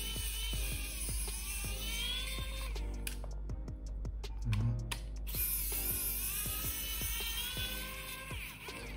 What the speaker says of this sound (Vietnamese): Nhiều anh em hỏi cái tua vít điện này của mình lắm nhá